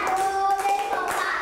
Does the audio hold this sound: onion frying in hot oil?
no